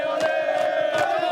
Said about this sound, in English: A passionate crowd ahead of the World Cup.